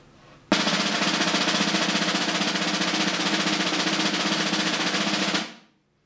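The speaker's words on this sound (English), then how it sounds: "The first one is called the double stroke or military roll, and sounds like this." A snare drum plays a double stroke military roll, a dense, even buzz of rapid strokes held steadily for about five seconds, loud and close, then fading out quickly with nothing else heard.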